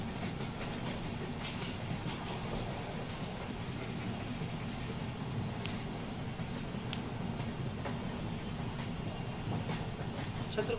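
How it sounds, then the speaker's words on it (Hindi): A slow local train running on the Central Railway line in Mumbai, arriving at a station platform; a steady, loud rumble of wheels and carriages fills the whole stretch, with occasional sharp metallic clicks and squeals on top. "छत्रपति शिवाजी महाराज टर्मिनस से बांद्रा के ले जाने वाली धीमी लोकल प्लेटफॉर्म क्रमांक एक पर आ रही है"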